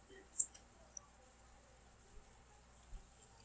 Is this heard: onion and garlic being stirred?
no